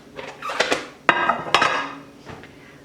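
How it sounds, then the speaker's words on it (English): Someone pulls a casserole dish out in a home kitchen and sets it down on the counter. Dishes clatter and scrape for a couple of seconds, with a few sharp knocks and clinks close by. "Now I'll get a casserole dish."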